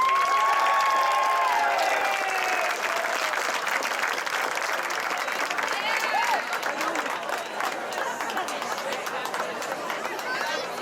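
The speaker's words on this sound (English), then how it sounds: "Let's have a round of applause for Colonel Mark Fish." A crowd at a high school football game applauds continuously, with scattered cheers and a whistle near the start, the clapping holding steady throughout.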